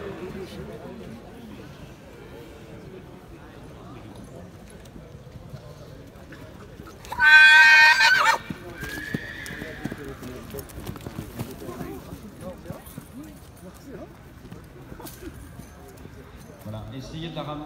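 A filly trotting on a presentation track along a fence at a Decize horse sale, her hoofbeats a soft rhythmic clip-clop beneath a commentator's voice, broken midway by a brief loud cry that could be a whinny.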